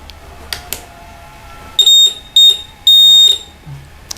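Homemade light-sensor circuit driving a relay sets off a shrill electronic alarm in three loud beeps, two short and one longer, with faint clicks before them in a quiet room.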